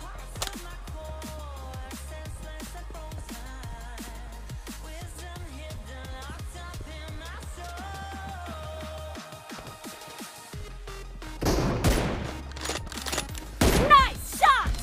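M24 rifle shots fired during a team shooting challenge: a few sharp, loud cracks in quick succession near the end, following a stretch of rhythmic music.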